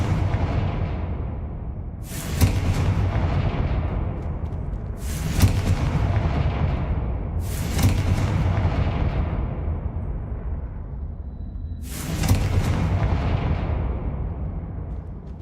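Four heavy booming blasts from the Confringo fire spell in Hogwarts Legacy land a few seconds apart, each a loud burst fading into a long rumbling decay over a steady background.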